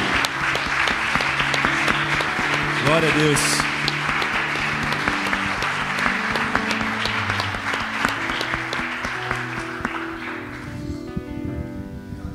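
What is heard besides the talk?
congregation applause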